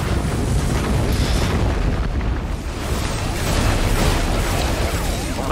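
Fireworks go off in a video game, with a barrage of about a thousand rockets. The bursts blend into a loud, continuous booming roar that stays dense and heavy throughout, with no speech over it.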